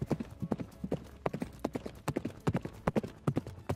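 Horse hooves clip-clop in a steady, quick rhythm while riding through a small town, each strike close and distinct, with brief speech faintly mixed in.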